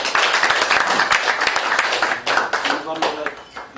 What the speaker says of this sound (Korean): 박수로 해주십시오.